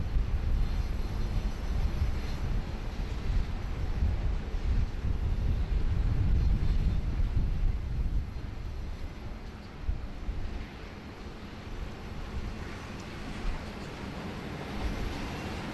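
A Qantas jet taxis at Sydney Airport, its engines a steady low rumbling drone heard from a distance with wind noise, easing slightly partway through, no talk.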